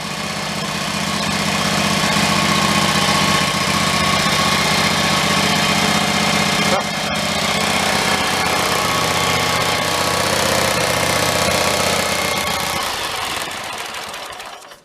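A John Deere riding mower with a stalling problem runs steadily close by, a loud, even engine drone with a wobbling top pulley, dipping briefly midway and then fading out as the engine shuts down at the end.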